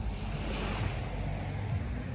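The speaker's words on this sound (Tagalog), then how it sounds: "Ganda ng dagat." Sea waves washing ashore at Deep Water Bay, a steady broadband surf roar with wind buffeting the microphone, continuous and fairly close, with no voices.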